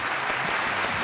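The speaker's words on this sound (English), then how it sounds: "A round of applause for our fans." A brief burst of dense crowd applause from a sound-effect keypad, loud and even, lasting about a second.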